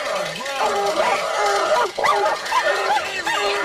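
A dog yips and barks in quick, excited bursts with whimpering, pitch-bending cries mixed in, loud and close, tangled with other animal noises.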